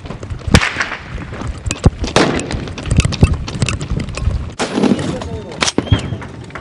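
Gunfire from private security contractors shooting into an alleyway in Kandahar, Afghanistan: several sharp, loud cracks at irregular intervals, spread over a busy outdoor background with bursts of noise.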